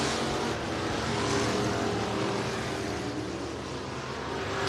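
Late model race cars throttle back up to speed after a caution period at a dirt track race, a dense continuous engine roar holding steady and fairly loud throughout with no talk.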